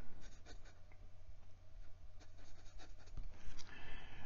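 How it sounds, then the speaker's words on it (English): A wet, smooth fountain pen nib scratching across paper, soft and close, in short irregular strokes of writing with no voices. "And this nib is plenty wet and smooth. And you can probably hear that feedback."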